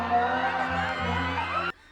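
Fans scream and cheer in a crowd at a town fiesta concert in Santa Cruz, a dense loud wash of high shrieks and whoops that cuts off abruptly near the end.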